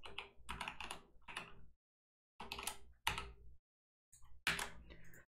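Code being typed on a computer keyboard in short bursts of rapid clicky keystrokes, separated by brief silent pauses, close and fairly quiet, with no talking.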